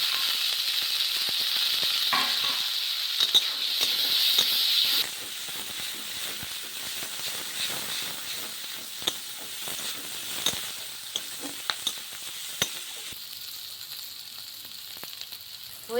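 Bitter eggplant slices fry in a pan with slit green chilies and chopped onion, a steady loud sizzle and hiss with scattered sharp pops and the scrape of stirring throughout.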